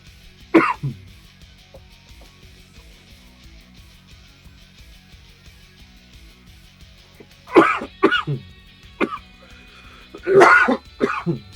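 A man with a returning cough coughs in short, close bursts: one single cough early, then a pair of rough coughs and throat-clearing sounds, and a final harsh double cough after a stretch of quiet room hum.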